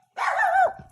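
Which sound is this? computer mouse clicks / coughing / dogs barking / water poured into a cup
dogs barking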